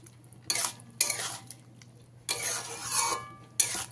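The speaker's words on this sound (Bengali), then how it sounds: "চিনিটা এর মধ্যে দিলে পোস্তটা হালকা মিষ্টি মিষ্টি লাগবে, খেতে ভালো লাগে। এভাবে ভালো করে মিশিয়ে দেবো।" Spoon stirring sugar into a poppy seed paste with ridged gourd in a pan, a few scraping, clinking strokes at close range with quiet gaps between them.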